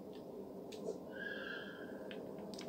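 A horse in the video game Ark: Genesis lets out a high, whinnying neigh over a low steady background hum, close and moderately loud, with brief clicks before and after and no talking.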